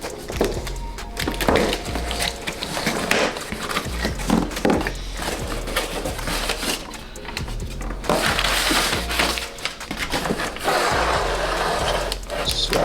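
Plastic and cardboard packaging being torn and crinkled open around a BMS phenolic spacer for a B58 engine, steady loud rustling and crackling close up with occasional thumps, no talking.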